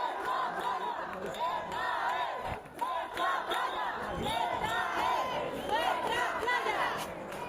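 A large crowd of protesters on a beach in Ceuta shouts rhythmic chants, many voices rising and falling together in loud, sustained waves with brief dips between phrases.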